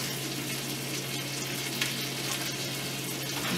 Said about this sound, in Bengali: ভালো করে নাড়বো, নিচে যত রিন্সগুলো লেগেছিল সমস্ত ওঠাবো